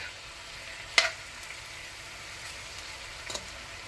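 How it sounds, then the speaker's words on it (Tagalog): Pork frying in a pan for binagoongang baboy sa gata, a steady soft sizzle with a sharp clack of a utensil near the start and a few lighter stirring scrapes later on. "Yan, naluluto-luto ng ating pork"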